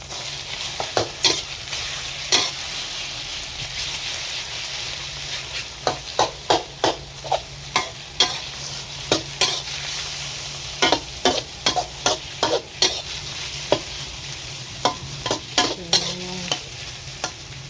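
Wide rice noodles with pork, sausage and egg are stir-fried in a pan, with a steady oily sizzle and repeated sharp scraping clicks from a spatula, irregular and close, with no talk.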